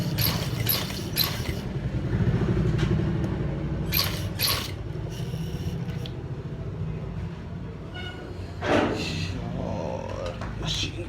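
A sewing machine stitches the front pocket of a gents' kameez, its motor running in bursts with short mechanical clatters and pauses, sounding moderately close and fairly quiet.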